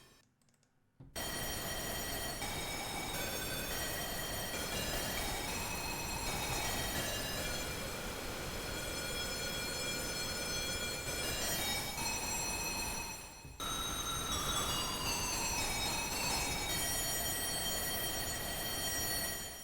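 Pink noise from SynthMaster 3 fed through a comb filter, producing a sustained, breathy pitched tone like a wind instrument, sliding slowly in pitch with a brief dropout midway, loud and steady with no voices.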